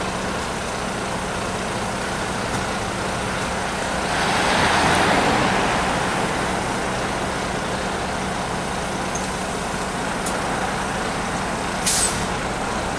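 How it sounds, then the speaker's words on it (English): Brighton and Hove route 7 bus pulling away from the Seven Dials stop, a steady engine rumble that swells as it departs, with a brief sharp air-brake hiss near the end amid street traffic. "There's the Brighton and Hove bus route 7."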